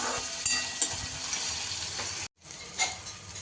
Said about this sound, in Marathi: तेलामध्ये भाजून घ्यायचा आहे. म्हणजे आपली व्यवस्थित फोडणी शिजवून घ्यायची आहे